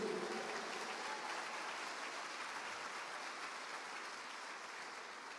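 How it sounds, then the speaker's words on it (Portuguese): Church congregation applauding during a worship service, a steady dense wash of clapping that holds at an even level throughout and fades slightly toward the end. "Aplauda o Senhor, diga eu creio."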